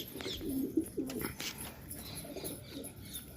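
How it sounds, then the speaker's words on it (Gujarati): Pigeons coo in soft, repeated low bursts at close range among birds kept in crates and nest boxes, with faint rustling and other bird chirps in the background. "બાકી આ બધા કબૂતર જોઈ લ્યો।"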